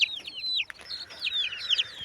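Chickens, including a young white rooster, making quick high chirping and clucking calls in short overlapping bursts, fairly close and faint.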